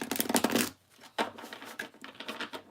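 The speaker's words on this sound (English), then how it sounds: "that didn't shuffle too good. The cards." A deck of reading cards is shuffled by hand at close range, a burst of rapid riffling flutter followed by looser, uneven slaps and shuffling taps.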